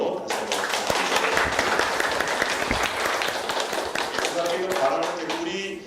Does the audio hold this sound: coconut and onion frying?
no